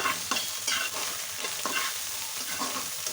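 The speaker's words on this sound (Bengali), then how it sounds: "ভালো করে নেড়ে নেব" Onion flowers and hilsa roe are stirred in a frying pan, giving rhythmic scraping strokes over a steady, close oil sizzle with no voices.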